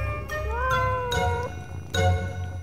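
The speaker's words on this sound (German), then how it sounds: "Ich habe vier Katzen hier auf dem Bauernhof." A cat on a farm meows clearly several times in close succession, each call rising and bending in pitch, with a faint jingle beneath and no talking.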